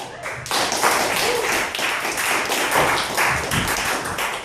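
A theater audience at the Brody Theater claps and applauds to welcome comedian Kyle Adams, a dense, sustained burst of many hands clapping that starts abruptly and carries loudly throughout.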